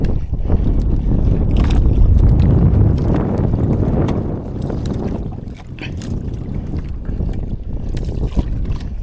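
Strong wind buffets the microphone aboard a fishing boat on the open Pacific, a loud continuous roar with gusts and scattered knocks and splashes from the hull; no one speaks.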